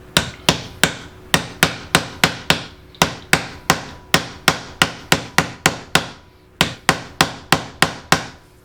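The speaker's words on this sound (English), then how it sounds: "Just hammer them in." Steady, evenly spaced hammer blows knock the back pieces into a 4x2x2 Dubia roach enclosure, each strike loud and close with a brief ringing decay, continuing in a regular rhythm with only short pauses.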